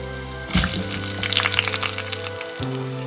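Roughly cut onions sizzling in hot oil in a pan for a Sri Lankan okra curry, a steady bright crackle that swells as they are stirred, with a low hum beneath and no voices.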